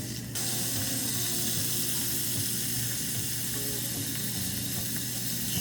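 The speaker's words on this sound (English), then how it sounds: "just get it all seared on the sides" Steak searing in a hot pan gives a steady, close, dense sizzle that holds evenly throughout, with no voices.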